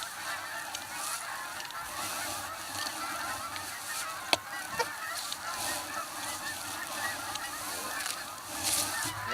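Geese honking outdoors in a Canadian field in early December, a flock calling repeatedly at moderate distance over steady background noise, with one sharp click partway through.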